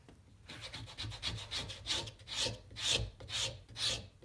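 Scraper dragged across a leather knife strop to clear metal residue, giving a series of rhythmic raspy strokes, roughly eight, growing stronger toward the end, close and fairly quiet.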